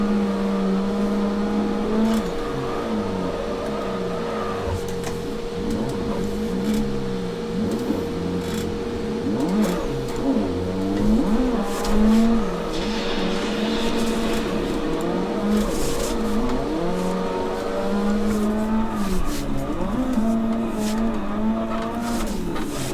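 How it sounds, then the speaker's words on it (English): A car drifting in the Assetto Corsa driving game, with the e-brake pulled and the throttle held: a steady, loud engine drone with shifting revs and tire squeal runs throughout, and no one speaks. "In, pull the e-brake, let go of the wheel, get on the gas."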